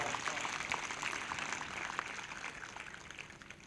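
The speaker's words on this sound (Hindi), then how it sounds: "फिर से एक जोरदार ताली बजाएं प्रभु की महिमा के लिए" A church congregation claps together in a sustained, even patter of applause at a Sunday service, fairly faint and steady for a few seconds.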